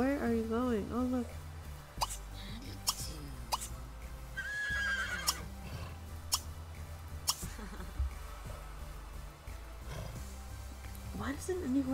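A horse in The Sims 3 video game gives a loud whinny at the start, then snorts and clip-clops amid game effects and chimes, ending with another neigh, while a person talks over it.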